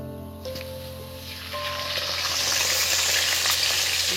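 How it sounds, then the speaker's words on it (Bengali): Chicken pakora dropped into hot oil for deep-frying, a close sizzle that swells from quiet to a loud, dense, bubbling hiss and holds steady to the end, with no talking. "হ্যাঁ, এইভাবে ভাজতে থাকবো শুধু।"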